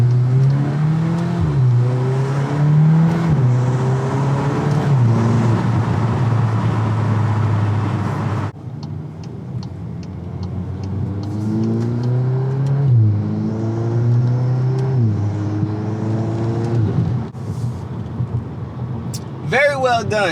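A 2022 Volkswagen Golf R MK8 fitted with an MST Performance full intake accelerates hard through rising gear pulls, its engine note climbing, dropping at shifts and climbing again, loud and close with intake whoosh throughout.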